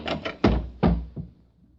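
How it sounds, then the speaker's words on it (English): A door opening in a radio drama, heard as a few dull knocking thuds and clunks of wood and latch, close and distinct, with faint trailing rattles. "I was awakened by the door."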